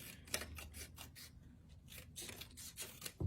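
Scissors snipping through paper for a small craft cutout, a run of close, crisp cuts in an irregular rhythm, with no talking.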